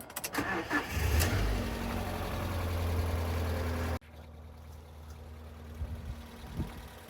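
A car laid up for seven years, its airflow meter disconnected, cranks and fires into a loud steady idle that runs close up for about four seconds, then cuts off abruptly, leaving faint background noise and a few soft knocks.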